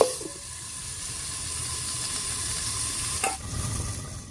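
Vegetables cooking under a lid in a pan, a steady soft hiss and simmer with a brief clink near the end.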